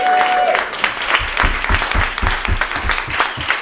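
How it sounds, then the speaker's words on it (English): A live Christmas quiz audience in a room bursts into dense, close applause, many hands clapping steadily for a few seconds with a faint voice mixed in at the start. "Let's have a big round of applause, ladies and gentlemen"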